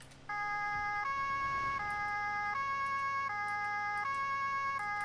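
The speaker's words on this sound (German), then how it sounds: "Oh Gott sei Dank ist die Sirene aus." Two-tone siren of a police car in the Autobahn Polizei Simulator 3 video game, alternating steadily between high and low pitches, loud and continuous after a brief rumble of engine, with no talking.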